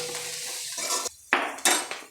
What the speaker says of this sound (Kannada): ಹಾಕ್ಕೊಂಡು ಫ್ರೈ ಮಾಡ್ಕೊಳ್ಳಿ.